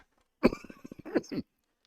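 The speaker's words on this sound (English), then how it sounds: "Cough's getting worse." A short burst of coughing, several quick rough pulses in a row, close and fairly loud, then quiet.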